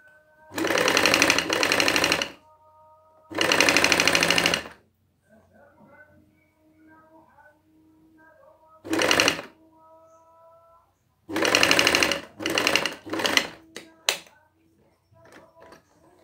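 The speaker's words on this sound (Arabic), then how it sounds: "غادي نخيطو الكتفين، الكتف ديال الامام مع الكتف ديال الظهر من كل جهه." A sewing machine stitches the front and back shoulder seams of a fabric cardigan, running in several loud bursts of steady rapid stitching separated by quiet pauses, with shorter stop-start runs near the end.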